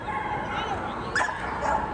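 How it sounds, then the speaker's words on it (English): A dog yips and whimpers briefly during an agility run at an invitational competition, with a handler's excited voice praising it over steady venue noise. "Yes, good dog."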